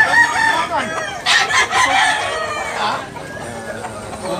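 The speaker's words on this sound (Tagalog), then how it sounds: "Maraming manok ngayon." Roosters crow loudly and close by at a gamefowl farm in Tabunok, Talisay, Cebu, overlapping calls with clucking among them, over a busy background of more birds.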